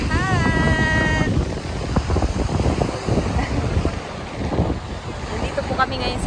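Wind buffets the microphone over the steady wash of sea waves, with a person speaking over the noise.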